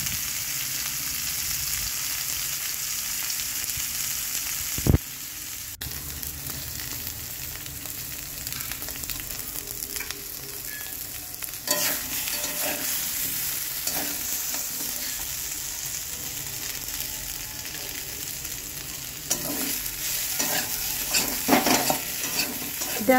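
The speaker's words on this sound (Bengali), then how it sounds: "জাস্ট তেলের মধ্যে একটু লাল করে ভেজে নেব" Boiled rui fish and cauliflower fry in hot white oil in a kadai with a steady, close sizzle. Occasional stirring scrapes and a sharp utensil knock cut through, with no talking.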